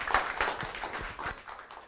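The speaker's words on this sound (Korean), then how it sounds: "큰 박수로 환영해 주십시오" A small audience at a lecture gives sparse, uneven clapping to welcome a speaker, individual hand claps audible in loose bursts that thin out toward the end, fairly quiet.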